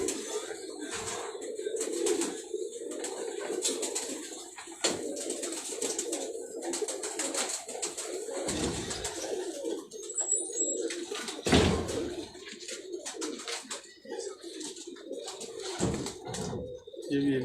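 Pigeons coo repeatedly on a rooftop loft in Punjab. Their soft, rolling calls come close and layered over one another, with occasional rustling and light knocks in between, and no voices.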